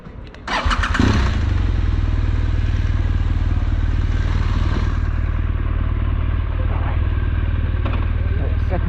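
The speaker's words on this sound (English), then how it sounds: "So I'll get the bike parked" A BMW R1200GSA adventure motorcycle starts up and runs steadily at close range, a loud continuous engine drone with light clatter as it is ridden to be parked in town.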